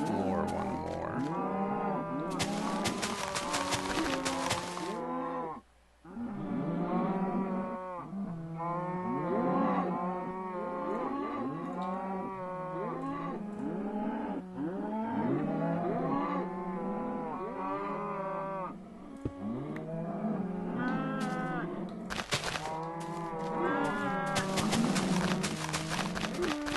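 Cows mooing in Minecraft, a run of repeated low lowing calls close by that go on for nearly the whole stretch, with a few bursts of broadband noise and no talking.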